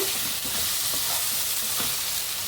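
Brinjal pieces fry in a pan as chili powder is stirred in, giving a steady, close sizzle with soft scraping strokes of a spatula scattered through it.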